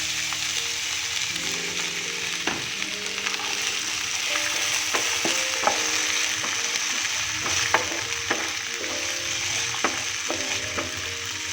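Vegetables and green chilies fry in a pan for masala poha, a steady close sizzle under repeated clinks and scrapes of a spoon stirring, with no talking.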